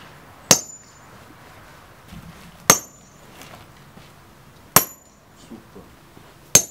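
Four sharp blows of a one-kilo hammer on stone in a quarry, evenly spaced about two seconds apart, each a bright clack with a brief ringing edge over quiet background.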